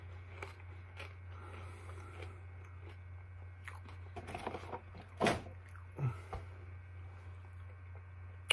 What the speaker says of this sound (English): Sorry about the chewing noises and stuff.